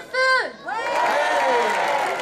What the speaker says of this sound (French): Schwirtz, Solène, sous vos applaudissements, s'il vous plaît.